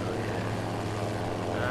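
Steady propeller-plane engine drone in a video game, a continuous close hum with low harmonics holding level throughout.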